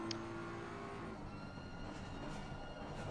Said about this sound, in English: touch on the brakes, feed on the throttle, and then floor it as you come around